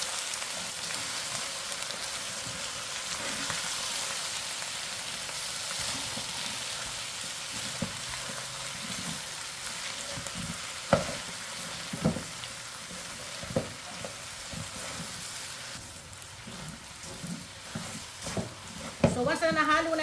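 Beef for beef pares frying with panutsa (palm sugar) in a pan: a steady, loud sizzle throughout, with sharp clicks and scrapes of stirring that grow more frequent toward the end.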